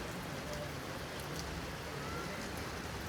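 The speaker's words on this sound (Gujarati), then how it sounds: "કેમ છે ફૂલ વરસાદ શરૂ થઈ ગયો છે." Heavy rain pours down in a dense, even wash of patter and hiss, continuous and fairly faint, with scattered louder drops and no voices.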